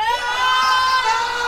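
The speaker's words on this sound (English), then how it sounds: "Control room round of applause for Patrick, please." A small crowd in a radio show control room lets out a brief, loud burst of cheering and screams, bright and sustained for a moment.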